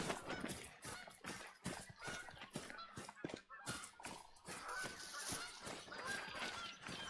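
Geese honk in a hunting video game, a flock of many overlapping calls, dense and continuous, close and fairly loud, no talking.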